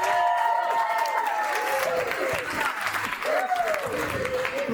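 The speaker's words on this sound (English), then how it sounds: "One more big round of applause for the father of the bride." Wedding guests applauding the father of the bride after a toast, a steady wash of clapping with a few cheers and voices mixed in at a reception.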